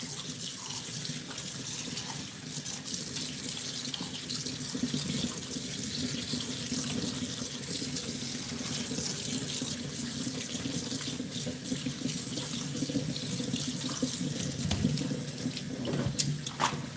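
Cool tap water runs steadily into a kitchen sink as cooked noodles are rinsed, a continuous splashing faucet stream lasting throughout with no talk.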